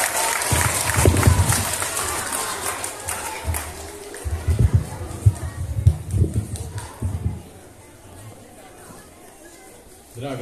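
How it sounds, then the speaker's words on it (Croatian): Children applauding at a school celebration of International Children's Rights Day in Tuzla, a burst of clapping and crowd noise that swells, fades and swells again, with talk mixed in. "molim vas aplauz"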